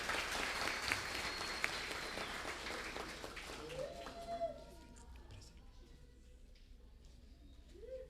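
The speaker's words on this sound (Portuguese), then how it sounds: "Uma salva de palmas, irmãos, aqui," Church congregation clapping during an evening worship service as a family receives a presentation certificate, a steady wash of applause for about four seconds that fades out, leaving quieter room noise with faint talk.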